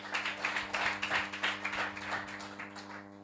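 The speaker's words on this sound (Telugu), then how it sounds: "చప్పట్లు కొట్టండి గట్టిగా" An Easter church congregation in Chennai claps loudly in a quick, steady rhythm of close, even claps over a low background hum, lasting a few seconds.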